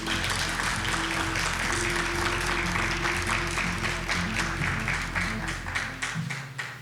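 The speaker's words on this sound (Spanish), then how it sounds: "solicitamos un fuerte aplauso para esta ponencia titulada Leucemia" Applause at an academic session after the introduction of a talk on adult leukemia, steady dense clapping with some sharper individual claps over a low hum, tapering off near the end.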